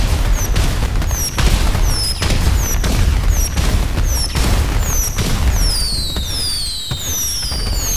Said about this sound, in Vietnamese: Bắn pháo bông ăn mừng đây.